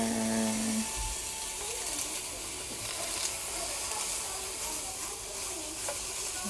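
Dried chilies toast in a hot pan with a steady, faint hiss and sizzle that runs continuously without talk.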